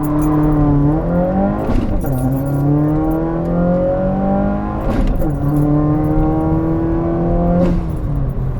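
A car with a new Tomei Expreme Ti titanium exhaust and Grimmspeed catted J-pipe accelerates hard through three gears, each pull a rising engine drone broken by a brief drop at the shift, loud and close from inside.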